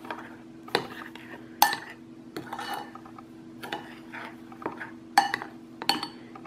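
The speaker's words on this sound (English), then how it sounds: "Give that a little stir." Sugar and a pinch of salt stirred into a bowl of flour for a peach cobbler batter, with a utensil clinking and scraping against the bowl in short, irregular strokes up close.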